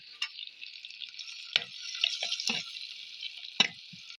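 Chopped ginger and green chillies sautéing in a pan for a red fish curry give off a steady, close sizzle, broken by a few sharp clinks and scrapes of stirring.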